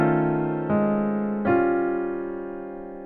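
Jazz piano plays a bar with rich sustained chords, including a rootless dominant voicing, changing twice and then ringing out and slowly decaying, heard alone and close.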